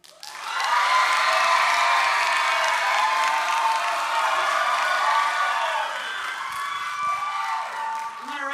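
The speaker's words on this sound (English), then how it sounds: "So if you're going to vote for the Troy High Treble Choir, go." A school auditorium crowd at a spring choir concert cheers, whoops and applauds for the Troy High Treble Choir, loud and sustained for several seconds before easing slightly, with shouting voices mixed in.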